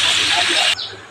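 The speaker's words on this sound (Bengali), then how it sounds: "এবার একটু জল দিয়ে দেবো।" Water hits a hot, well-fried spice paste with a loud, close hissing burst that cuts off abruptly, followed by a quieter lingering sizzle.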